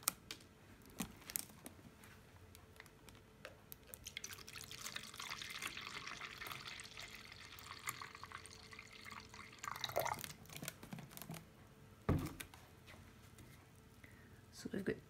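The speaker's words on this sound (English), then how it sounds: "I'm going to add 250 ml of diluting juice and 750 ml of water" Water pours steadily into a jug for several seconds, with dripping and splashing near the end, and a voice heard faintly at times.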